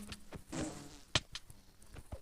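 Bee buzzing in Minecraft, heard as a faint, soft hum with a few short clicks and taps scattered through the brief moment, no talk over it.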